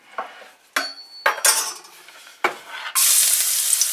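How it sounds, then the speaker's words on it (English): Garlic dropped into hot vegetable oil on medium heat for a vegetable stir fry: several loud clinks of utensils against the pan, then a sudden strong sizzle that stays bright and continuous, close and without talk. "So our oil is hot, we can add our garlic now."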